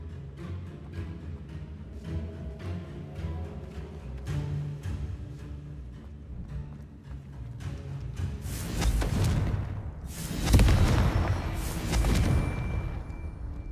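Confringo and Bombarda spell explosions in Hogwarts Legacy: a steady rumbling game backdrop gives way to several heavy, booming blasts that swell loud near the end.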